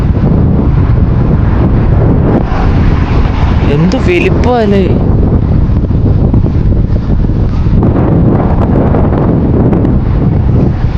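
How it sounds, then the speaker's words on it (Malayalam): Strong gusty wind buffets the microphone outdoors beside a large old building in Magdeburg, a loud, constant rumbling roar that runs throughout while a person speaks briefly over it. "ഒടുക്കത്തെ കാറ്റ്"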